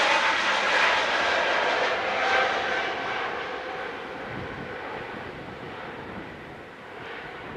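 A Turkish Airlines airliner rolls on the tarmac at Manchester Airport in strong wind, its engines giving a loud, sustained jet whine and rumble that fades slowly.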